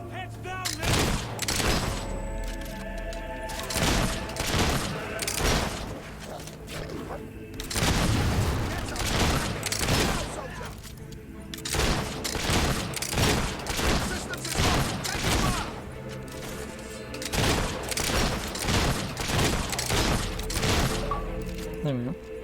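Rapid volleys of gunfire and booming blasts crackle in repeated bursts through a battle in the video game Fable 3, loud and dense, with voices shouting beneath the shooting.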